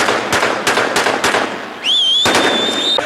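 Automatic gunfire shot into the air in Gaza streets, a series of sharp loud cracks in quick succession followed by a rising whistling tone over continued bangs, fairly near, with no voices.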